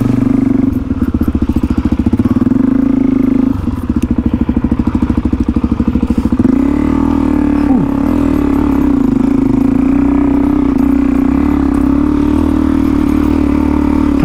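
Motorcycle riding trails in the Blue Mountains near Sydney, its engine loud and close with a steady thrumming drone, a choppy pulsing patch early on, then settling into an even idle or cruise.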